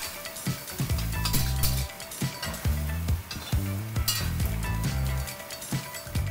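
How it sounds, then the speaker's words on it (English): Cooked rice being stir fried in a Lodge cast iron wok, steady sizzling under repeated scraping and clanking strokes of a utensil against the metal, close and busy throughout. "we simply need to mix everything together and stir fry it until it's good and hot"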